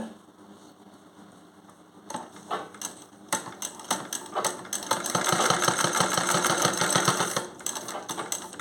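An industrial sewing machine runs in bursts as a trouser back pocket is stitched, with a rapid mechanical whir that grows steady and loud in the middle before stopping, close and alone.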